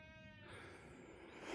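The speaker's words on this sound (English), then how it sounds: "There's certainly some sheep in Nick's field there." A sheep bleats faintly in the distance on Whitwell Moor over steady outdoor wind noise, a single drawn-out call.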